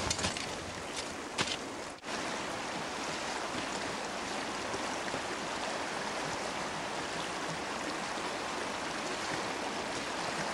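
Water rushes and splashes continuously as someone wades through a stream while winter camping, a steady broadband wash with a few sharp splashes near the start.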